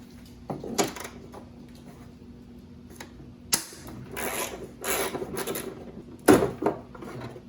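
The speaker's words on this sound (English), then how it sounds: "So now we're going to back that out and hopefully remove this entire shroud." A bolt is backed out to free the shroud on a Honda HRX217 lawn mower, heard as a few close, sharp metallic clicks and scrapes of the tool, with quiet gaps between bursts.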